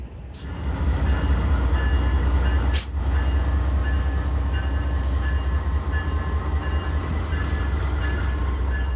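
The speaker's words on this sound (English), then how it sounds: "After all lines are disconnected, 121 powers up and pulls away from the coaches of Train 57." Amtrak locomotive 121, a P42, powers up and pulls away from the passenger coaches of the Vermonter, Train 57, on a frigid day: a loud, steady diesel rumble close by, with a brief sharp interruption partway through.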